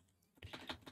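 Typing on a computer keyboard: quiet room, then a run of several quick clicking keystrokes close by, moderately loud against near silence.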